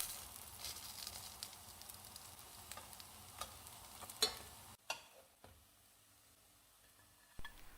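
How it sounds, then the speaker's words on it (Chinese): Batter frying in a pan until golden and crisp gives a faint, continuous low sizzle with scattered light clicks and stirring taps, fading briefly near the end and heard alone. "如果大家想吃脆的，就多煎一会儿"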